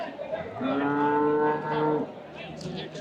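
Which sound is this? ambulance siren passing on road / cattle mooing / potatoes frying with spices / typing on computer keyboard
cattle mooing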